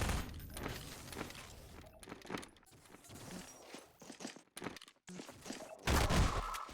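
SMG fire in Half-Life 2: Deathmatch rattles in short, quick bursts and scattered shots at moderate to faint level, separated by brief gaps, ending in a louder flurry.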